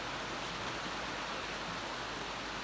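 Steady broadband rush of river water flowing over a stream bed, continuous and fairly close, with no voices.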